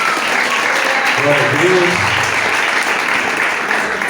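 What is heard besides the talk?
church congregation applauding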